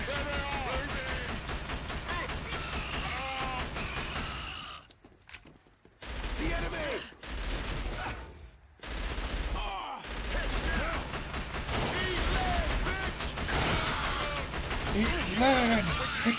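Rapid gunfire bursts from the Killzone video game crackle almost continuously, broken by two brief lulls, with someone talking over the shooting.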